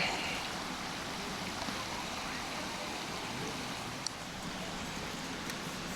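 River at Cilaos, Réunion: a steady broadband rush of flowing water, constant and moderately close, with no other clear sounds apart from a faint click.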